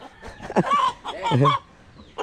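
A pet chicken clucks close by in a few short, uneven bursts, with brief quiet gaps between the calls.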